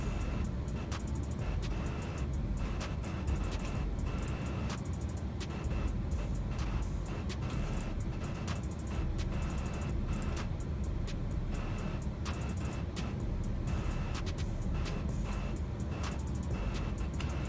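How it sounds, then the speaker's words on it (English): Airport ambience from the X-Plane 11 flight simulator at Miami's Cargo City, beside an MD-11F freighter: a steady, fairly loud wash of engine and vehicle rumble with hiss, continuous, with no speech. "we got to change that airport ambience, brought to you by XP Realistic. It's a little loud"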